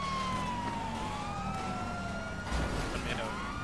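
Police car sirens wail and sweep in pitch in GTA Online, steady and prominent over road traffic noise, with a brief thump near the end.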